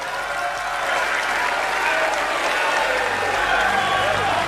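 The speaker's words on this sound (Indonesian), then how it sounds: "Beri tepuk tangan yang mulia untuk Bapak Prabowo Subianto." A large crowd breaks into loud, sustained applause for Prabowo Subianto after his speech at a PSI declaration event for the 2024 presidential race, with dense, even clapping and some voices mixed in.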